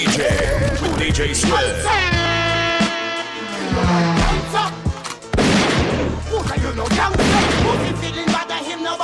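Gunshot sound effects blasted through a DJ mix, sharp bangs and volleys punching over thumping music and sustained tones, loud and layered, repeating in bursts.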